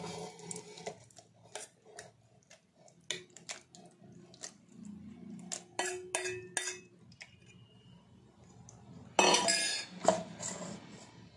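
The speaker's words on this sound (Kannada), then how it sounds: "ಈಗ ಹಣ್ಣನ್ನೆಲ್ಲ ಒಂದು ಮಿಕ್ಸರ್ ಜಾರ್ ಹಾಕ್ಕೊಳ್ತಾ ಇದ್ದೀನಿ" Mango pieces tipped into a mixer jar give scattered clinks and knocks of utensils against the jar, soft and intermittent, with a louder clattering burst near the end and no talking.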